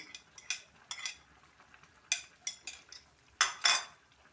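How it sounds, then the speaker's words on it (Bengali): A spoon knocks and scrapes against a pot while egg bhujia is stirred into boiling water with long beans, giving a few sharp, spaced metallic clinks and scrapes, close and fairly quiet, with no talk. "দিয়ে একটু নাড়াচাড়া করে নেব।"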